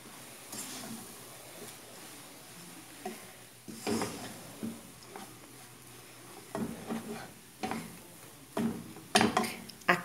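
Corn flour is stirred into kale farofa in a pan, with repeated scraping strokes of a utensil against the pan and a soft sizzle between them, close and moderately loud.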